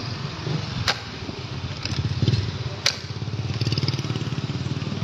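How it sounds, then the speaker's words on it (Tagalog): A motorcycle idles close by in a town while being parked, its engine putting out a steady low pulsing rumble, with a couple of sharp clicks or clunks of handling over the top. "Papark ko lang yung aking motor."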